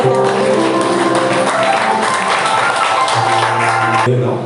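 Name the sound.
audience clapping for Jesus at a church service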